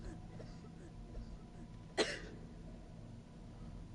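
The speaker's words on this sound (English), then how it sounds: "Oh, coughing." A single short cough in the video game House of Ashes stands out once in the middle, over quiet background noise and faint distant sounds.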